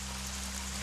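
Steady broadband rain patter on a tent with no rainfly, constant and close, with a low hum underneath and no voices.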